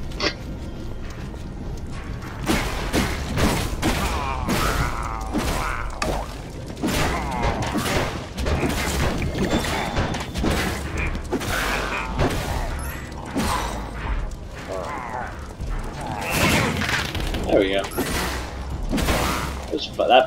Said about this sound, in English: The firework arrows can be very helpful.